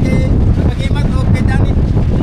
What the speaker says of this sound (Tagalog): Maalon lang sa labas.